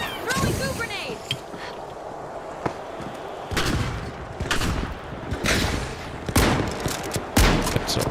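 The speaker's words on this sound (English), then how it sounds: "Throwing goo grenades." Goo grenades are thrown during a match of the shooter game The Finals, giving sharp bursts and thuds scattered among other loud game effects. There are several distinct impacts with busy noise in between.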